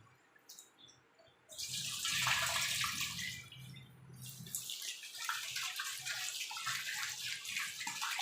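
Dried anchovies (nethili karuvaadu) being washed by hand in a basin of water: close splashing and swishing that grows louder after a quiet start and carries on steadily, with no talking.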